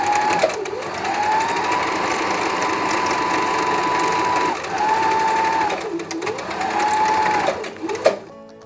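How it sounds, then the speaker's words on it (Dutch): Sewing machine running in long continuous bursts with a steady whirring pitch that rises and falls as it starts and stops, stitching fabric for a scrunchie; loud and close, no talking. "moet je het aan elkaar naaien."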